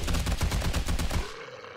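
M60 machine gun in the 7 Days to Die video game with the Darkness Falls mod firing a rapid, loud burst of evenly spaced shots that stops abruptly, leaving a brief fading tail.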